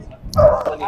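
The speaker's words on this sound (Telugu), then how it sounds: "చాలా అగ్రెసివ్ డాగ్" At a dog show in Nellore, an aggressive Dogo Argentino-boxer mix gives a single short, gruff bark close by, amid background noise.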